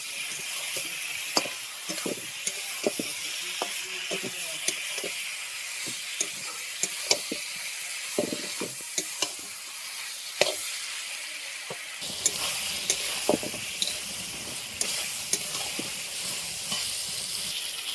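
Pointed gourd, potato and soybean chunks sauté in hot oil with spices and tomato, giving a steady close sizzle and hiss punctuated by regular scrapes and knocks of stirring against the pan.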